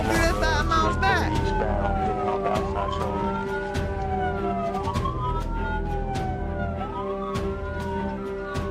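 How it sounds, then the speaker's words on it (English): A police siren wails in repeated rising and falling sweeps during a high-speed police chase, loud and steady over a rumbling engine, with voices talking underneath. "I activated my sirens"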